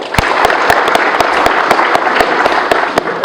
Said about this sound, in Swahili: tujipigie tu makofi